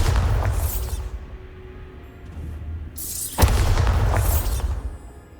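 Two booming blasts from the Bombarda spell in Hogwarts Legacy, the first fading out within a second and the second, louder, bursting mid-way and rumbling for about a second and a half, with quiet ambience between them.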